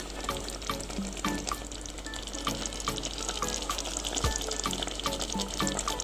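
Vegetable oil is drizzled into a cooking pot, giving a steady close sizzle with faint trickling over a low hum, continuous for several seconds with no voices.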